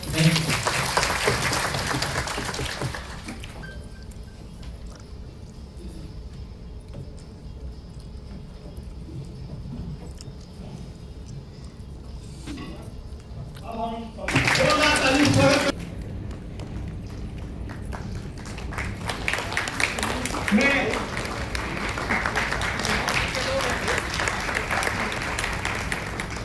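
Audience applause at an award ceremony, a steady wash of clapping that runs throughout, swelling loudest in a short burst midway and staying strong toward the end.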